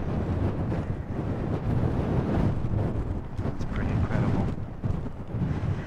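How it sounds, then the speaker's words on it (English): Strong mountain wind at an abandoned mine in Arizona buffets the microphone in a constant loud roar with gusty swells throughout, drowning out any other sound. "it's so windy"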